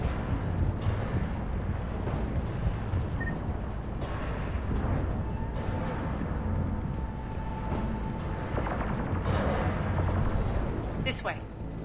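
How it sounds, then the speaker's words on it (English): Booming cannon blasts and explosions rumble continuously through a noisy, chaotic battle scene on Omega in Mass Effect 3, loud and sustained with occasional sharper bursts. "Those cannons have to be stopped."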